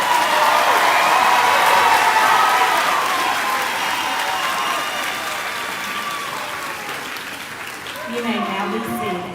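High school graduation audience giving students a round of applause, sustained crowd clapping that gradually thins and softens, with a voice coming in under the tail end.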